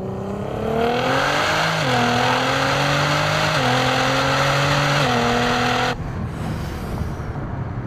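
A 1000 hp Nissan GT-R street car accelerates hard from a second-gear roll, its engine note climbing steadily through several quick upshifts, loud and close, before cutting off abruptly near the end.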